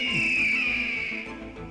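Injured hawk crying out as it struggles to fly over a forest pond, a sustained high, wavering shrill cry that rings steadily for nearly two seconds with a faint lower tone beneath.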